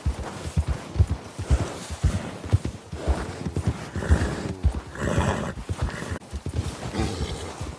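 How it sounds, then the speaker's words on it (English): A horse in the video game Red Dead Redemption 2 snorts and whinnies while its hooves clop in an uneven walking rhythm, loud and close, with no talking. "That's a fine horse."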